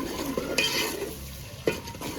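Spices fried in ghee in a village kitchen in Punjab, with a close, brisk sizzle under stirring scrapes and a couple of sharp utensil knocks against the pot.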